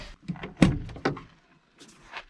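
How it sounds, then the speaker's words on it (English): A 1998 Land Rover Wolf 110 door, with no interior panels, is pulled shut by a strap: a few light rattles, then a solid thunk and a second knock, close by. "I pull it shut using this strip right here."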